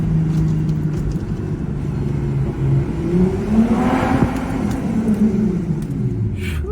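A straight-piped Lexus IS350 exhaust rumbles and revs in a tunnel, its low drone rising and falling with a throaty, echoing tone, no voices.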